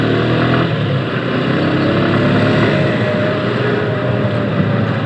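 A Suzuki Gixxer motorcycle, converted from the monotone to the SF version, rides along with a loud, steady engine drone and broadband rush of wind and road noise, holding constant throughout without speech.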